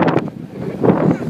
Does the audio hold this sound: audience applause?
no